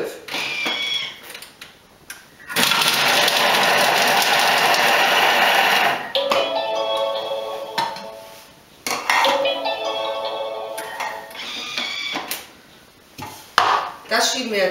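A Thermomix TM5 chops garlic on speed 5 with a loud, steady blade whirr lasting a few seconds, surrounded by clinks and clatter of kitchen utensils.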